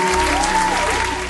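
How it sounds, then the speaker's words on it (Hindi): Applause from a gathering awaiting a poet's arrival at a microphone, a dense continuous clatter of clapping filling the clip, loud and steady with a faint tonal hum underneath. "धीरे धीरे अब उस माहौल में तालियों की गड़गड़ाहट भी बढ़ने लगी थी"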